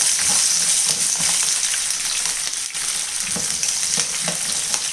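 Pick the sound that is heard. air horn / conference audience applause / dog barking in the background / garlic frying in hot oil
garlic frying in hot oil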